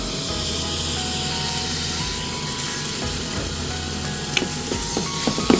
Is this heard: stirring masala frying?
yes